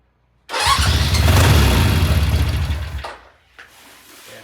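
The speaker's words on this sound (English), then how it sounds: "by now it should drop into idle. It's warm." Norton motorcycle engine starting abruptly and running loud and rough for about two and a half seconds, then dying down, followed by a fainter brief sputter.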